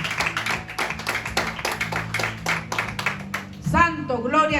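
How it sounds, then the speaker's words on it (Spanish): A church congregation claps in a steady rhythmic beat, with instruments or singing faintly under it, before a voice comes in near the end of the clip. "Démosle ese fuerte aplauso a nuestro Señor."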